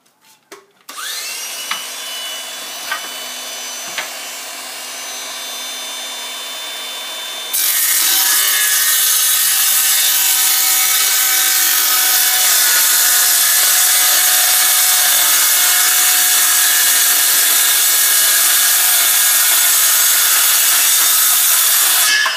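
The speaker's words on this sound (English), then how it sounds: "a piece of angle iron, and I'll go ahead and make the cut" A hand saw cuts steadily through angle iron clamped to a workbench, a loud continuous rasping stroke that starts lighter and grows harsher and fuller after several seconds, running uninterrupted without speech.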